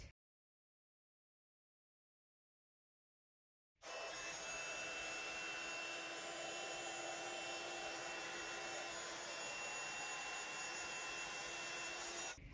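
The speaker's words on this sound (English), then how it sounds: "then I'll heat emboss this with gold" A heat gun blasts air to melt gold embossing powder on a handmade card, sounding as a steady, loud whooshing hum after several seconds of silence and then running on without a break, with no voices.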